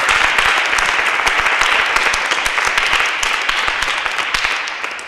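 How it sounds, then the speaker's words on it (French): A crowd applauds loudly and continuously at a choir concert, dense clapping that holds steady then slowly eases off. "On va applaudir Anselme, très fort."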